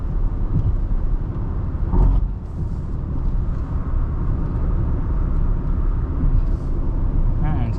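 2024 Maruti Grand Vitara Sigma cruising on the road around 80, a steady broadband road and engine rumble heard from inside the cabin, with voices talking over it.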